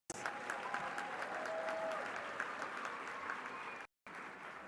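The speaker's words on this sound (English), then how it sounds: "A big round of applause to all our graduates" An audience at a university graduation ceremony in Pietermaritzburg applauds the graduates, with steady, moderately distant clapping from many hands and a few whoops, cutting out briefly near the end before resuming.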